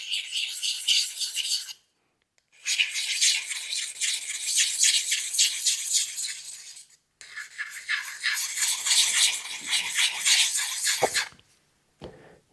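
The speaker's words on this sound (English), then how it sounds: "Those diamond files. I'm gonna come at 45 degrees, much lighter around the edge." A diamond file hones the edge of a woodworking chisel held at 45 degrees, giving three long bursts of quick, close raspy strokes separated by short silent pauses.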